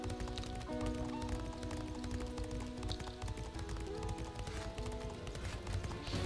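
Steady clip-clop of horse hooves while riding in a video game, a quick, even gallop heard up close under a faint musical background.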